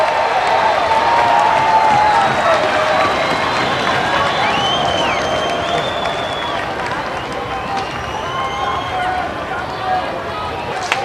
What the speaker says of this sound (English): Bardole getting a great hand from the crowd